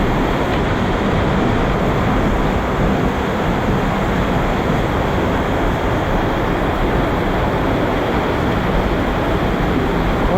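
A small waterfall pours steadily into a cave stream during a winter underground trip, a loud, continuous broadband rush of falling water close by that does not let up.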